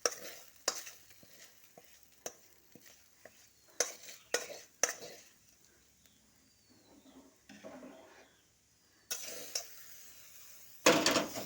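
Boiled kabuli chickpeas being stirred into ghugni masala in a pot, with a spoon scraping and clinking in irregular bursts and a few louder knocks toward the end, moderately close.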